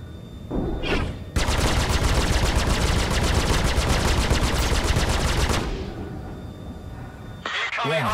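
Rapid continuous gunfire from a spacecraft in the video game Star Citizen rattles loud for about four seconds, with brief bursts before and after and a voice calling out near the start.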